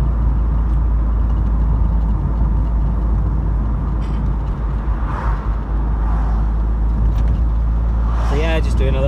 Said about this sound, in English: just doing a little drive through Sheff